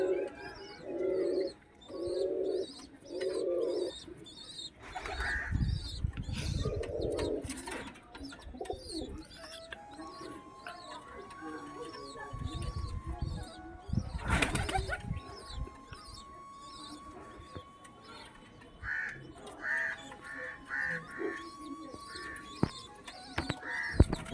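Pigeons feeding their chicks in the sun coo in repeated low, throaty phrases up close, with a couple of louder rustling bursts like flapping wings mixed in.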